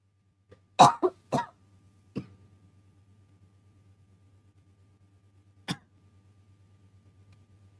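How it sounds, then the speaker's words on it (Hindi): A person coughs twice in quick succession, followed by a smaller cough and, after a pause, one more single cough, close and otherwise quiet. "इतना बोल बोल के खांसी आ जाती है।"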